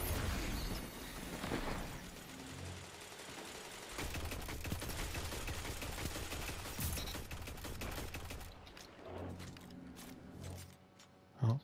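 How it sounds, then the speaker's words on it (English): A slower-firing, hard-hitting weapon in a Destiny 2 Crucible match blasts in dense, loud volleys mixed with explosions and crackling impacts, fading briefly before another sharp burst at the end. "This weapon does fire slower, but it does pack a wallop"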